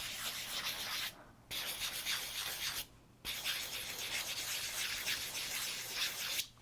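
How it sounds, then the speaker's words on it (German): A sanding sponge rubbing a 3D-printed part makes a steady, close scratchy hiss in three long strokes separated by short pauses, with no talk. "Schleifschwamm hat bestimmt auch jeder von euch Bastlern daheim."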